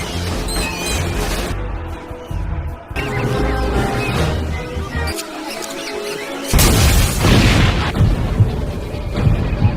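Rats exploding inside a textile factory in an action movie scene: a run of loud booms and crashing blasts over a dense, rumbling score, with a heavy burst near the end and no talking.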